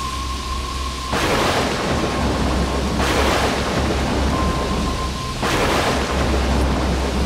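Cartoon storm effects with heavy rain and rolling thunder: a constant loud hiss of downpour, with several booming thunder crashes breaking in at intervals over about seven seconds, alone and without voices.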